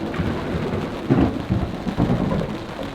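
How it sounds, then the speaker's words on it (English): Rain falls steadily while low thunder rumbles in several rolling swells during a mountain fishing trip in the San Juan range of Colorado, with no voices. "right away we started getting rained out again"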